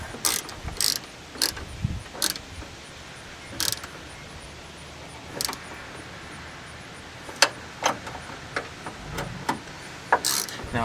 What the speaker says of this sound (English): I can't fit the wrench back there no more. So I had to put an extension on it